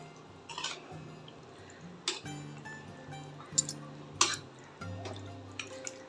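Mutton gravy gets stirred in a pot, with several scattered scraping clinks of a spoon against metal and a faint liquid bubbling between them, all quiet and close.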